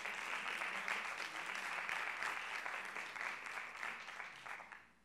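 An audience applauds at a Spanish-language public-management panel, the clapping steady and moderately loud throughout before tapering off near the end.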